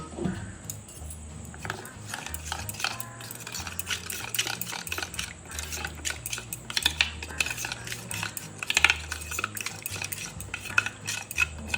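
Cumin powder and turmeric being stirred into a paste with water, a spoon scraping and clinking against a bowl in quick, uneven strokes, close and fairly quiet, with no one talking.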